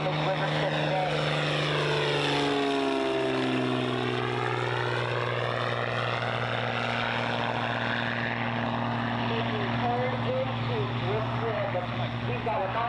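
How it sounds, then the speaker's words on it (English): A six-seat propeller airplane flies low over a river airstrip during a plane competition event in Arkansas. Its engine drones loud and close, dropping sharply in pitch as it passes overhead, then keeps humming steadily as it moves away. "Listen to that engine, and he comes by overhead here on this river strip today."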